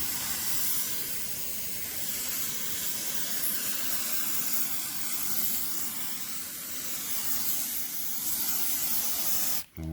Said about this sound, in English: So just spray it with brake clean.